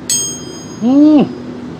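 An old iron keris blade from the Paku Buwono era is struck once with a bright metallic ting, then a clear bell-like ring that swells and bends in pitch before a voice speaks over it.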